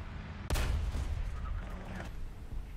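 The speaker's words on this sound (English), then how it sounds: "We shoot high velocity HE shells at a rapid fire speed." A 155mm gun in War Thunder fires high-velocity HE shells, one sharp heavy boom followed by a rumbling tail and faint later reports, loud and close with no talk.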